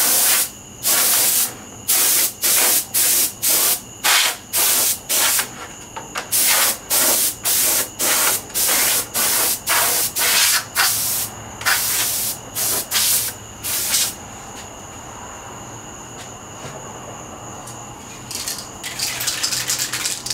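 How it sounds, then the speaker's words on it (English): Compressed air blows dust off a Peavey Raptor guitar body between paint coats, in a series of sharp, loud hissing bursts with short gaps, then a quieter stretch before more faint hiss. "Compressed air, blow the dust off."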